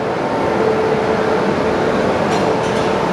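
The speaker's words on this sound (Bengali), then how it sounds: "এই হচ্ছে আজকে আমাদের লোকোমোটিভ" Kolkata–Sairang Express with its locomotive, a steady broadband rumble and hum as if standing beside the idling train, loud and continuous with no talk.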